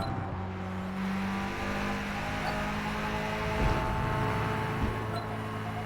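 Race car engine droning and accelerating in the racing game Forza Motorsport, a sustained steady whine with rising engine tones and tire noise throughout, fairly loud and continuous.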